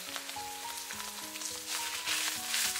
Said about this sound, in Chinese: 再把五花肉倒进来